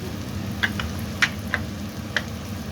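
Tomatoes fry in a pan with a low steady sizzle, broken by a few sharp pops and spatters that come at irregular moments, the whole sound fairly quiet with no voices.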